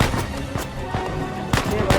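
Gunshots ring out in Uncharted 4 as several sharp, loud bangs land irregularly over two seconds above a busy game soundscape.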